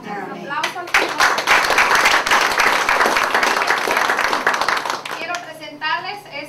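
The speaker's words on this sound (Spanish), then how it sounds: "Vamos a dar un aplauso al Señor" A Spanish-speaking gathering at a Mary Kay event applauds after a prayer, with a burst of full, steady clapping between stretches of voices before and after.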